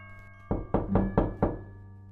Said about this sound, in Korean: 그런데 또 똑똑 하는 소리가 들리는 겁니다. 이번에는 훨씬 선명하게요.